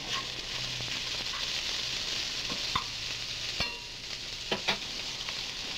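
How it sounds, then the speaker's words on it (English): Peppers stirred around in a hot pan give a continuous low sizzle, broken by a few sharp clicks and scrapes of the utensil against the metal, close by with no talking. "we stick the peppers in. Stir them around."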